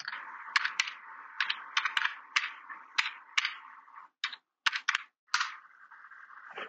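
Keys clatter on a computer keyboard as a short command is typed, giving irregular close clicks with brief pauses over a faint steady hum.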